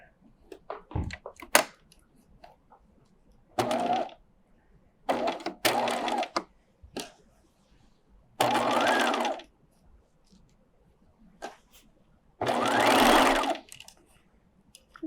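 Sewing machine stitching charmeuse fabric for a pencil skirt, heard as several short bursts of stitching separated by pauses and small handling clicks, close and moderately loud.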